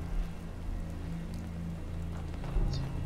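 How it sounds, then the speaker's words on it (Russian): Steady rain falling across the outdoor wasteland in the video game Fallout 4, a continuous soft hiss of drops on surfaces with a low rumbling bed, no voices. "Так, дождь, туман"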